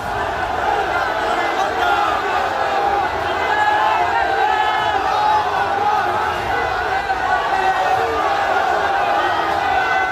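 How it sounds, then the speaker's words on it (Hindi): Large protesting crowd after Friday prayers in Uttar Pradesh, chanting Allahu Akbar slogans as a continuous, loud roar of many voices. "देखते ही देखते भीड़ अल्लाहू अकबर के नारे लगाते हुए आगे बढ़ने लगी"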